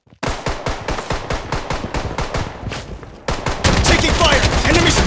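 Rapid automatic gunfire in the shooter game Project BloodStrike, a fast rhythmic string of sharp close shots that briefly pauses, then resumes as a louder, denser barrage with more shooting layered in.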